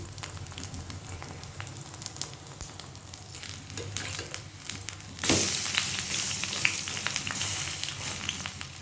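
Bora fritters fry in hot oil with a quiet crackle that jumps into a louder, hissing sizzle about halfway through, likely as fresh batter hits the oil, then stays bubbling steadily; no one speaks.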